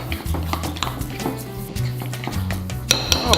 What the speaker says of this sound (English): Now you stir everything up.